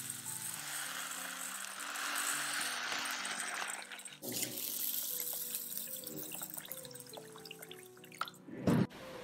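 Glutinous rice is rinsed in water, giving a steady swishing and trickling wash close by, then a brief pause and more stirring and dripping, ending in a louder splash.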